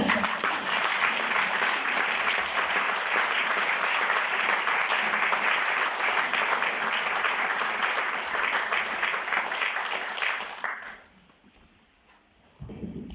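A large audience claps steadily in a hall as a speaker takes the stage, the applause holding strong for about ten seconds before dying away.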